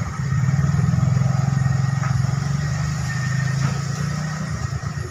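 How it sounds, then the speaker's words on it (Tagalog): Engine of a Suzuki Smash 115 motorcycle revving steadily with a throbbing low drone that stays loud and even for about five seconds, fading slightly at the end. "galit-galitin mo makina, okay lang yan."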